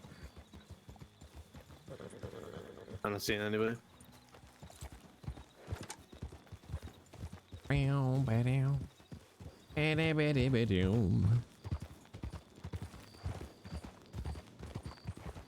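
Hooves of a Nakoa horse clip-clopping at an easy, steady pace in Red Dead Redemption 2, close and continuous, while someone talks over them in several bursts.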